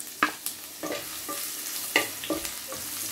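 Chili garlic sautéing in hot frying oil for a Filipino isaw dinuguan dish, a steady close sizzle broken by several sharp scraping stirs and clatters of a utensil in the pan.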